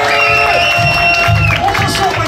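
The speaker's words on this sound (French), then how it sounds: "je vais vous demander de faire un tonnerre d'applaudissements, garder l'énergie" A comedy club audience bursts into loud, continuous applause and cheering as the next comedian is called to the stage, with voices and whoops mixed into the dense crowd noise.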